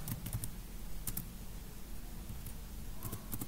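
Fingers tap out a short word on a computer keyboard while entering text into a Microsoft Excel spreadsheet, giving quick irregular clicks in small bursts over a steady low hum in a quiet room.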